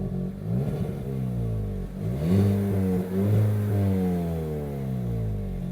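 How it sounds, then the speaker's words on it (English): A 2023 Hyundai i20 N engine revs up and down repeatedly, its note rising and falling in loud, close sweeps with no talking. "It's just when you rev it up."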